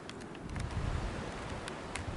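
Wind gusting through a burnt-out forest on a blustery day, a steady broad rushing roar that swells around the middle and holds, with faint rustling flickers on top and no voices.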